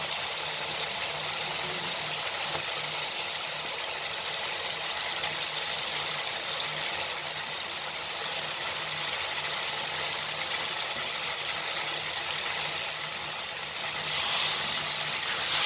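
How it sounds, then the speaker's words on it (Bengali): Pieces of taki fish frying in a pan with tomato masala give off a loud, steady sizzling hiss that runs unbroken and swells slightly near the end. "এখন কেটে রাখা টাকি মাছগুলো দিয়ে দিলাম।"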